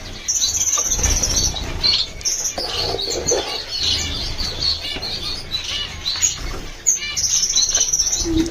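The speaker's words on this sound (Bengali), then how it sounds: "এখানে হচ্ছে হোয়াইট ক্রেস্টেড বেঙ্গলি ফিঞ্চের একটা পেয়ার রয়েছে।" A pair of white-crested Bengalese finches at a breeding farm chirping, a busy run of close, sharp tweets and calls repeating throughout, with no talk.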